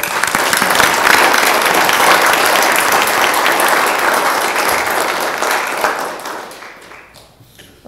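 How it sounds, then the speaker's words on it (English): Sustained round of applause from the audience at a 2022 La Verne candidate forum, loud and dense for several seconds before gradually thinning and fading out near the end. "That round of applause."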